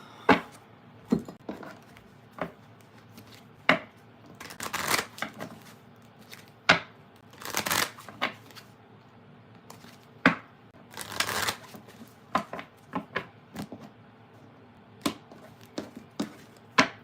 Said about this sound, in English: Okay, last deck to shuffle.